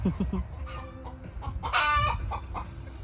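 Chickens cluck near the coop on a homestead, a hen giving short close calls and a louder drawn-out squawk, with quieter clucks around it.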